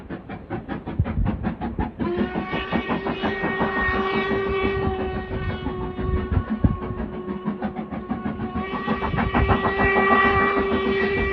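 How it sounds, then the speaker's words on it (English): Train crossing the Glenfinnan Viaduct in Scotland, a steady rhythmic clatter of wheels with a long sustained whistle blowing over it, loud and close. "We just saw the train go across the Glenfinnan Viaduct."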